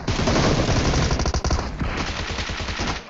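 Loud, sustained automatic gunfire in a shooting video game during a one-versus-three fight, rattling continuously without pause for the whole stretch.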